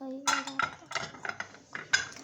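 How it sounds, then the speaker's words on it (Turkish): Dishes and cutlery are being loaded into a dishwasher, giving a quick, uneven run of close clinks and clatters of plates and silverware, with no talking. "makinedeki bu bulaşıkları diziyoruz"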